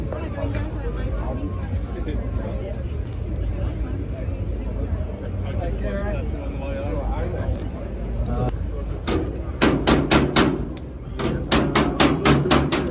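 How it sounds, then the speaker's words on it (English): Sharp metallic hammer-and-dolly blows ring out in quick bursts on a car body panel, following a stretch of indistinct talking and workshop noise. "do a bit of hammer and dolly"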